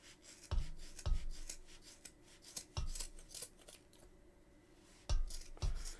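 Scissors snip through yarn pom-pom strands to trim them, several separate sharp cuts scattered through the stretch with quiet pauses between, close and fairly soft.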